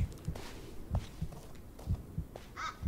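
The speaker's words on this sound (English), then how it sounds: "Why is my heart beating?" A faint, low heartbeat sound effect plays in the Blair Witch video game: a steady series of soft, muffled thumps, roughly one per second, under a quiet ambient hum, with a brief higher sound near the end.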